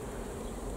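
Honeybees buzz outside the hive at an apiary on a mild spring day, a dense, continuous droning hum close by with no talk.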